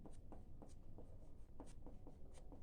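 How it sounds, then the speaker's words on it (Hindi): Chalk or marker writing on a board during a math lesson: quiet, quick repeated strokes and taps in an irregular rhythm, close and faint with no talk. "अब लिखेंगे यूक्लिड विभाजन"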